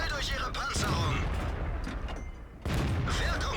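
Artillery shells landing in a tank battle video game, heavy booms and blasts rumbling continuously across the clip with a brief lull before another loud impact, under a player's voice.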